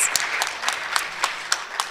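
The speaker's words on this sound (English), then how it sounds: "Let's give them another round of applause." A small conference audience claps together for a keynote speaker, with dense, brisk applause and a few louder claps standing out at a fairly even pace, close by.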